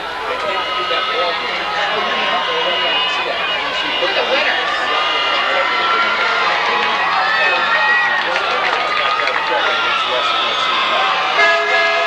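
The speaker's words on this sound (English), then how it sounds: "sitting on the back of a huge truck, honking the horn" An Army truck's horn honking at a 1998 high school varsity football game, long blaring blasts over a loud cheering crowd with people shouting and talking throughout.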